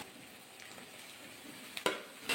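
Chopped eggplant frying with lightly browned onion in a pan gives a soft, steady sizzle, with a couple of sharp scraping clinks near the end as it is stirred.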